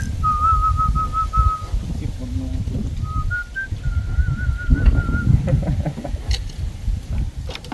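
A person whistles during a fishing outing on the water, giving a series of short, clear, steady-pitched notes in two main runs with brief higher chirps. Voices and outdoor background noise sound throughout.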